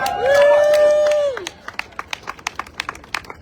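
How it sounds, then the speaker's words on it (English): Crowd at a community hearing rally clapping in unison, sharp regular claps in a steady rhythm following a brief loud cheer or shout from the crowd. "Clap it up again."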